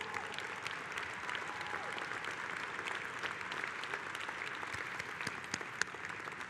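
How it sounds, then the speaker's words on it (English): A convention hall audience applauds in sustained, dense clapping that holds at an even level throughout, with a few louder claps standing out from the crowd. "Give them a round of applause"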